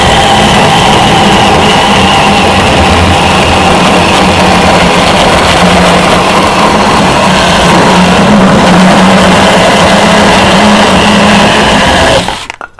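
A Zeeksaw 6-inch mini chainsaw cuts through a large wooden board, its small motor buzzing loud and continuous at close range for the whole stretch before stopping abruptly at the end.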